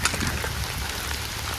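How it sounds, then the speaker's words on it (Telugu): Steady rain falls outdoors on the way to farm fields near distant hills, a dense even patter that stays constant and fairly close throughout, with no voices. "వర్షం పడుతుంది ఫ్రెండ్స్."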